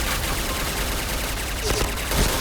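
Rapid AP5 gunfire from the shooter game PUBG, a dense continuous burst of shots heard throughout at steady loudness, with a louder flurry near the end.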